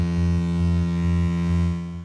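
A loud, continuous synthesizer sawtooth tone, bright and buzzy with rich overtones and a slight rhythmic throb underneath.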